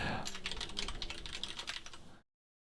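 Rapid typing on a computer keyboard, close and fairly quiet, with a dense run of clicky keystrokes that stops abruptly into silence.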